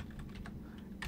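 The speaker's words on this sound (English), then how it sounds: "type this in the text field" Typing on a computer keyboard at a desk, a short burst of quick, soft key clicks close by with a louder cluster of keystrokes near the end, no voices.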